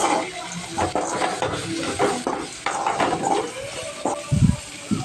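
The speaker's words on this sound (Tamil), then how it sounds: "கொஞ்சமாக பெருங்காயத்தூள் ஆட் பண்ணிவிட்டு எல்லாத்தையும் நல்லா வதக்கி விட்டுக்கலாம்." Rice flour mixture with salt and asafoetida being sautéed in a pan for savory rice flour dumplings, with intermittent scraping and clinking of a utensil against the pan over a steady low background.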